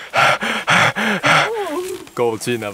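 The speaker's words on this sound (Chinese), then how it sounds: "大家可以听到学姐沉重的喘息声" Heavy, rhythmic panting comes from a hiker on a difficult mountain trail: four loud, close gasping breaths in a row, followed by someone speaking.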